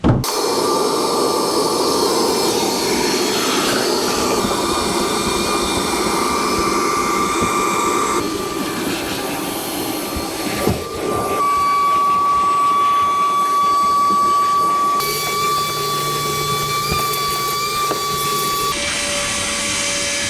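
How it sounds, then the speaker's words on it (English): Vacuum cleaner running continuously inside an XE Falcon, a steady loud whine with shifting pitch as the nozzle moves around the interior, briefly dipping near the middle before resuming. "what I reckon we should do now is vacuum the inside"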